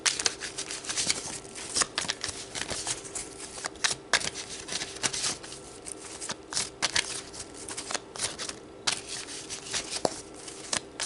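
Tarot cards are shuffled repeatedly in a quiet room, with crisp riffling bursts and soft papery slides at an uneven rhythm.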